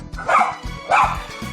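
A dog barks twice in loud, close bursts about half a second apart, with low rumbling in between and no talk. The dog is one of the troubled pets on a Korean dog-behavior training show.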